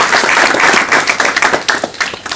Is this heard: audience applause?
yes